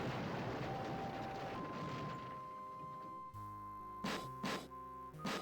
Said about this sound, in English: Just then, you hear and feel an explosion, which seems to have come from behind the door.